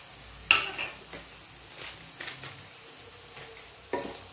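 Vegetables already fried in a pan are stirred together with sugar, chaat masala and amchur powder for a vegetarian pasta, giving a few scattered scraping, clinking stirs over a quiet background sizzle.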